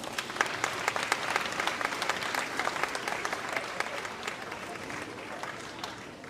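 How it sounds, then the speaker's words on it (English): An audience at a children's Bala Vihar show gives the performers a dense, even round of applause that holds steady for several seconds. "So let's give them all another round of applause."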